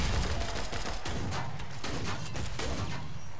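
Rapid gunfire in Killing Floor 2, a dense barrage of shots with mechanical clatter, loud and close, continuing steadily over the whole stretch without talk.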